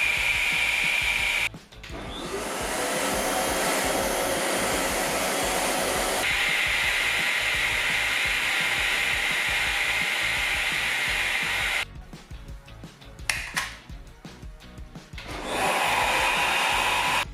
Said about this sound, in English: Fortunately, the PalFur grooming machine has a long hose.